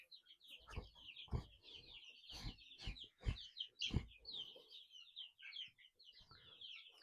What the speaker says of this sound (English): So these are the chicks.